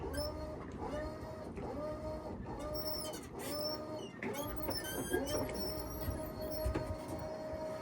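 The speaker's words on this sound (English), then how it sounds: "Just want to show you the swim platform coming up here using the remote. It's got to be like a little electric winch in there." An electric winch on a 2013 Greenline 33 boat at a dock in Mystic, CT, raises the swim platform by remote: a steady close motor whine with repeating rising tones, running continuously without speech.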